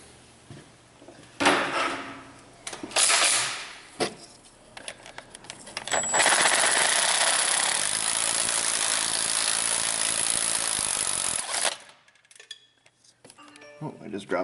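Impact wrench working exhaust manifold bolts loose on a Hemi Dodge Ram: a loud, sustained burst of about six seconds of hammering rattle, preceded by scattered clanks and handling of tools, with quieter shop noise after.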